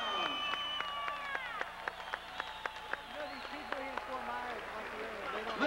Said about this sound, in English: Applause for Darryl Pinckney and Felix Camacho.